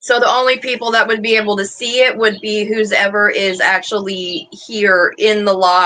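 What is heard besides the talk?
No everyday noises stand out.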